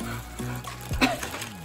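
Water runs and trickles off a wet, soaked garbage bag with soft splashing and dripping close by, fairly quiet and irregular.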